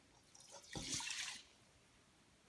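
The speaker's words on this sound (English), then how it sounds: "add your water to begin cooking" Water poured from a tap into a pot of rinsed rice: a short, faint splashing pour lasting under a second, then quiet.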